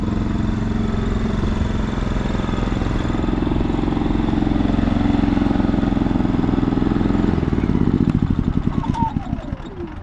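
DK9200 tri-fuel generator running with a steady mid-pitched engine drone, then sputtering and winding down into slowing clatters as it shuts off near the end.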